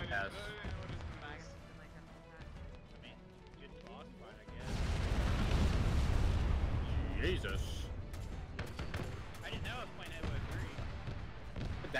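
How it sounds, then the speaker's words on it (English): A big explosion in the Arma 3 Halo mod arrives as a sudden loud roaring boom midway, rumbling on for a few seconds, with gunfire cracks and players talking before and after. "That explosion was really"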